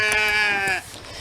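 A sheep bleats on a farm, one sustained quavering call close to the microphone lasting most of a second, followed by quieter farmyard background.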